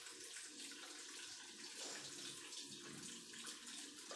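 Tap water runs continuously while Gorilla Glue is washed off, a close, steady splashing rush with no pauses.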